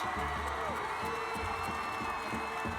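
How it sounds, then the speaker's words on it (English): A large crowd cheers and roars continuously, with whoops and shouts rising over a dense, steady wall of noise. "The crowd goes wild."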